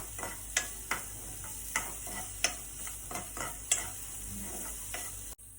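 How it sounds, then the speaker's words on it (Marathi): Spinach bhaji being stirred in a frying pan, with steady close sizzling and a series of rhythmic scraping strokes of the spoon against the pan. "इल्लेशें हांव हांगा मीठ घालतां आनी परत तेका मातशें चाळ मारता."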